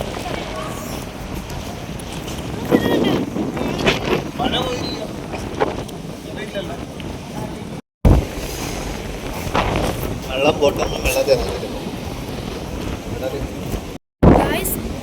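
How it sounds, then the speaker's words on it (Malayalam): Strong night wind at a beach buffets the microphone with a constant heavy roar and gusty swells, close and loud, while people talk over it. "ഭയങ്കര കാറ്റെന്ന് വെച്ചാൽ ഒന്നും പറയാൻ പറ്റില്ല, അത്ര കാറ്റ്"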